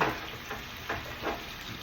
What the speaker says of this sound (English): This is real, genuine, flavorful butter. In the pan it goes.